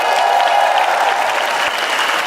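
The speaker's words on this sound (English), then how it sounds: "please give a round of applause to the president of the Miss Universe organization, Miss Paula Sugart." Audience applause at the Miss Universe 2016 preliminary pageant competition, a loud continuous wash of clapping from a large crowd filling the short moment, with a faint steady tone underneath.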